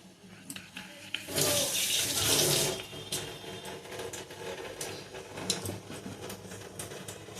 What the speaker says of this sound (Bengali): হাতটা ধুয়ে নি, দাঁড়ান।